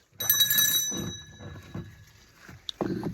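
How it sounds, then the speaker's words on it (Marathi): A bright metallic temple bell rings at a village shrine with a long shimmering tone that fades, followed by further clanks and a short second strike near the end. "याला घंटी वाजवतो मी"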